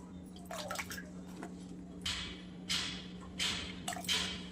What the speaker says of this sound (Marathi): एक दोन पाण्याने धुवून झालाय आपल्या ही शेंग आणि बटाटा.